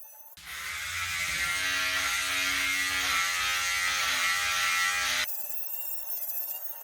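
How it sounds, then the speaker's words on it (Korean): An electric hair clipper fitted with a 12mm guard buzzes steadily through a man's hair during a self-cut, a loud, close, continuous whir lasting about five seconds before switching off. "12mm로 먼저 밀겠습니다."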